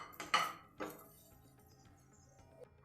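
Raw mango chutney being stirred in a pan, with a few sharp metallic clinks of a spoon against the pan near the start, then quiet scraping.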